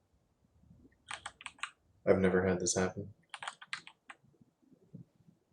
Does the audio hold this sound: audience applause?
no